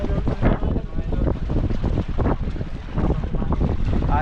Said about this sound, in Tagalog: Lakas ng alon mga idol, may ulan kasi paparating.